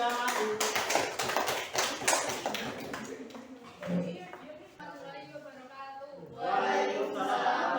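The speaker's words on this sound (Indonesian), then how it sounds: "Berikan tepuk tangan untuk temannya yang sudah maju." Classroom applause for classmates who presented, a brief burst of scattered hand claps that fades out, followed by talking.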